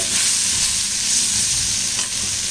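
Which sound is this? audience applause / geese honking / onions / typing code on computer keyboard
onions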